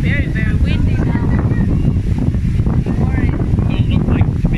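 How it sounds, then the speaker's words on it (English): Strong wind buffets the microphone at a breezy beach in the Philippines, a constant loud rumbling roar throughout, with people talking over it. "it's very windy now"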